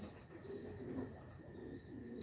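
A full-grown solid-coloured Homer pigeon cooing softly, low repeated burbling notes that continue quietly and evenly with no talk.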